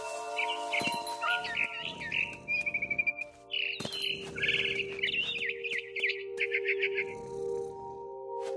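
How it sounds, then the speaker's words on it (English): Barn swallow in What Remains of Edith Finch, chirping in quick, busy twittering runs and warbled calls, close and clear above low ambient game music, with brief pauses between phrases. "Then I heard chirping outside my window. It was a barn swallow going back to her nest."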